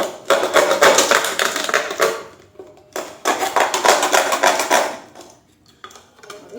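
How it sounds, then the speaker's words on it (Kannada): Someone cuts through a large plastic bottle to make a smaller one: two long stretches of close, rasping, crackly cutting separated by a short pause, then a brief final burst. "ಈ ಥರ ಕಟ್ ಮಾಡ್ಕೊತೀನಿ."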